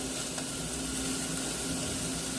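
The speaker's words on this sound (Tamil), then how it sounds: "ஒன்றரை கைப்பிடி அளவுக்கு வெங்காயத்தை சின்ன நான் கட் பண்ணி ஆட் பண்ணுறேன்" Finely chopped onion sizzles in hot oil in a pan, a steady, dense crackling hiss heard close and continuous throughout, with no talking.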